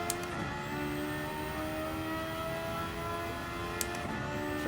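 An engine-swapped race car in Gran Turismo 7 runs at full power with a sustained high-pitched engine whine, steady and loud throughout, with faint tyre and wind noise underneath.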